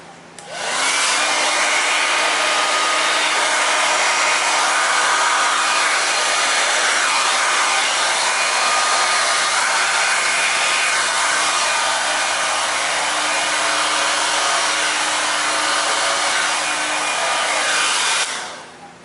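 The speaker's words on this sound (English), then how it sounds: "Blow dryer, high air, no heat." A blow dryer on high air with no heat roars at full power with a steady, loud rush of air, starting and stopping abruptly, with no voices.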